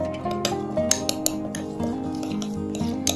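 Oil and other ingredients are mixed in a container for a homemade hair remedy, with close, rapid clinks and light scraping of a utensil against the sides and a few sharper taps.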